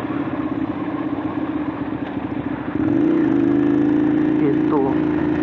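A Ducati Monster 795 motorcycle engine holds a steady throbbing note, then rises louder and higher partway through. It stays prominent and close.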